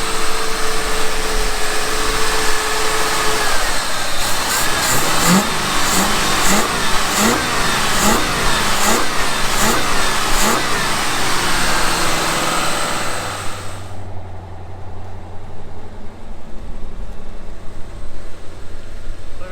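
A rusty Ford P5 LTD with a 351 Cleveland V8, dormant for 15 years, runs loud and close with a steady rumble and a series of rhythmic revs, then drops abruptly to a quieter idle near the end.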